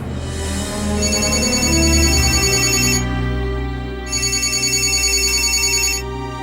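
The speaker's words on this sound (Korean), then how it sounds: "이 형사님의 전화가 또 울립니다" A telephone rings in two long electronic bursts with a short gap between them, steady and fairly loud, with no voices.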